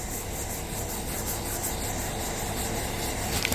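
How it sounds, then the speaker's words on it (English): A flat sanding block with 80-grit paper is rubbed over body filler on a car mirror cover. It makes a continuous, close, fairly loud abrasive scrape with no breaks and no voices. "I'm using a flat block and 80 grit to sand this body filler"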